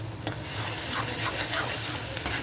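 Blended raw chickpea paste sizzles in a hot pan while a spoon stirs it, a dense, close frying hiss with soft rhythmic scrapes throughout and no talking.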